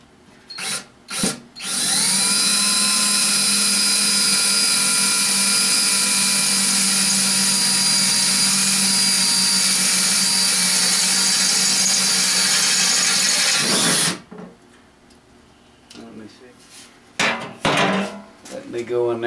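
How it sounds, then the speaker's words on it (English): Power drill boring through metal parts for a TIG torch cooler, a loud steady whine running about twelve seconds with a few short bursts before it and quieter shop clatter after. "Let me drill these out"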